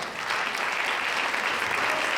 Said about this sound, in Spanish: El aplauso es un sincero agradecimiento por esa labor